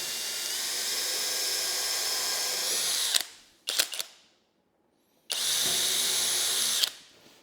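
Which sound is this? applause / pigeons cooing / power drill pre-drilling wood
power drill pre-drilling wood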